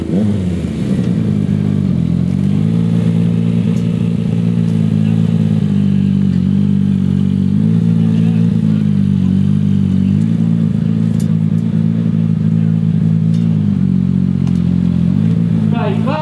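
Yamaha MT-09 motorcycle riding and revving, a loud, steady engine drone held close for a long stretch with slight rises in pitch and a rev near the end, speech faintly underneath.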